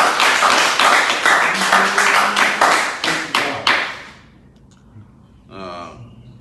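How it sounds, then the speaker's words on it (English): A few people in a studio clap for a donor during a live talk show, a short burst of rhythmic, close claps that fades out after about four seconds, followed by quiet and a brief voice. "Clap for that."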